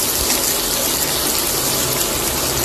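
Onions drop into hot white oil in a wok, giving a loud, continuous hissing sizzle that holds steady throughout with no talking.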